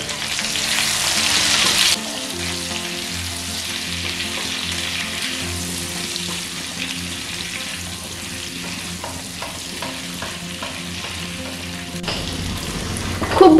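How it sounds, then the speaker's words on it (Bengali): Mango pieces tossed with salt and turmeric sizzle and fry steadily in a pan over medium flame for pickle, with occasional stirring scrapes and a louder burst of frying at the start. "এখন মিডিয়াম ফ্লেমে এইভাবে 2 মিনিটের মতন রান্না করে নেব"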